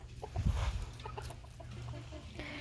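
Chickens cluck near puppies, with a burst of fairly close clucking early on followed by softer scattered calls and background noise.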